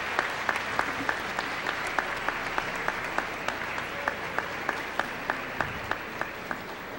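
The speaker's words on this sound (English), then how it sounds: "And give your families a round of applause for all the help they've given you." Applause at a middle school graduation ceremony, a broad patter of many hands with one close clapper beating a steady, regular rhythm throughout.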